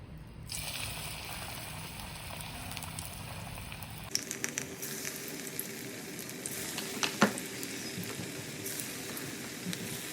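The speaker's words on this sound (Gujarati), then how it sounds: "આ જ રીતે આપણે બીજો બેચ પણ તળી લઈશું." A batch of Chinese pakoda (bhajiya) deep-frying in oil: a continuous bubbling sizzle that jumps louder partway through, with scattered crackles and pops close by, no speech.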